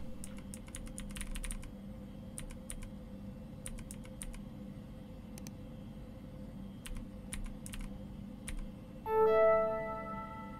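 Typing on a computer keyboard comes in quick bursts of light clicks separated by short pauses over a quiet room hum, and a brief tonal chime sounds near the end.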